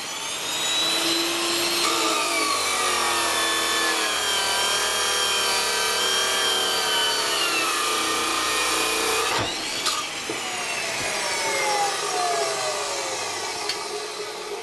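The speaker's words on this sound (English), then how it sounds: "The end of the billet is also removed by a cutoff wheel" Abrasive cutoff wheel slicing through the forge-welded end of a folded Damascus steel billet, a loud continuous whining grind with shifting pitch, briefly interrupted near the end before resuming, heard alone without talk.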